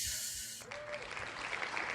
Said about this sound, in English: Circle clap for L Yarn.